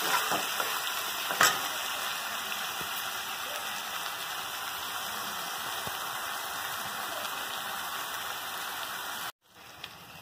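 Egg masala sautéing in a pan with turmeric and chili powder, giving a steady, close frying sizzle with stirring scrapes and one sharp clack early on, before the sound cuts out abruptly near the end.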